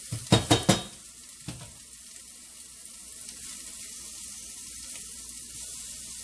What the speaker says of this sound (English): now I think I'm gonna go ahead and add our shrimp